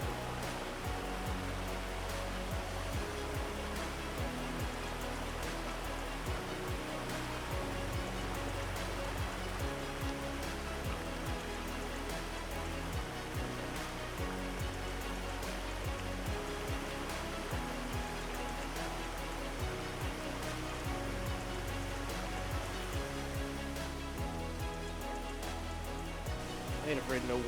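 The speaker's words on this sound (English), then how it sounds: "And just like that, we arrived at our first river crossing." A river in the White Mountains rushes steadily past a trail crossing, a broad, even wash of flowing water heard close and alone with no voices.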